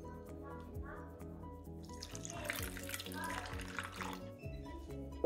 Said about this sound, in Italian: ai 50 grammi di lievito aggiungo 50 grammi di acqua